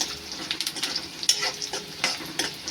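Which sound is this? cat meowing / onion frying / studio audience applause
onion frying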